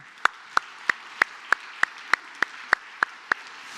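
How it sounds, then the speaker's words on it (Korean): A Korean church congregation claps in unison during a Sunday worship service, about a dozen sharp, evenly spaced claps in a steady beat roughly three per second, crisp and close over a quiet background. "힘차게 박수 좀 해주세요."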